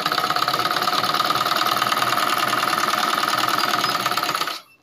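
A sewing machine runs continuously, stitching a palazzo seam with a fast, even mechanical chatter that is loud and close, then stops abruptly at the very end.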